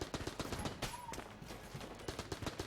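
Rapid, sharp gunshots of heavy bullets in a video game, firing in quick irregular bursts across a few seconds, fairly faint overall, with a brief electronic tone mixed in.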